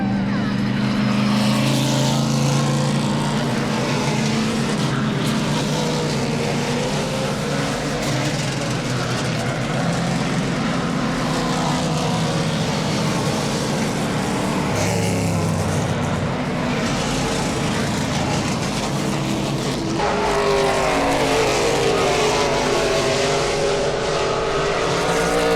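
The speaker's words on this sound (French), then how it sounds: "Là il y a NASCAR qui vont partir, il y a NASCAR qui arrive." NASCAR race cars roar around a Canadian racing circuit, a continuous loud engine drone with rising and falling passes heard from the stands, with no talk over it.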